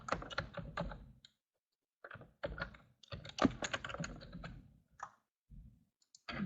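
Quiet typing on a computer keyboard arrives in short, irregular bursts of close clicks separated by brief pauses, with no voice.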